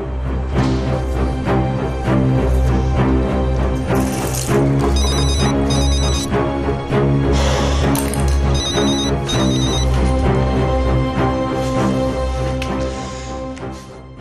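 A telephone rings in repeated bursts, its electronic trill recurring over a loud, sustained musical background.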